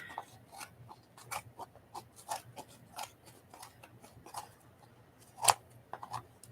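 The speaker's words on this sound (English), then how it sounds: "I'm going to cut the edge off this paper." Scissors snip through paper up close, a series of crisp, irregular cuts with short pauses between them, one louder snip near the end, no talking.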